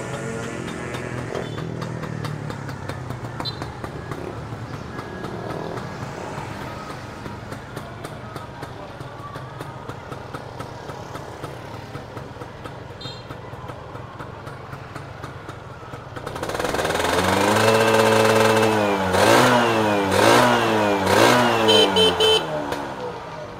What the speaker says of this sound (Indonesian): Kita akan cek sound langsung motor ini.